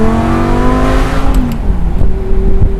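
A gated-manual Lamborghini Gallardo on the road revs hard under partial throttle; its loud engine note climbs, then drops away into a lower, burbling tone with sharp pops as the throttle eases.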